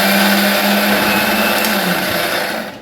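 A kitchen mixer grinder whirs loudly and steadily as it coarsely grinds fried boondi for besan laddu, a close, continuous motor drone with a slight drop in pitch before it cuts off at the end.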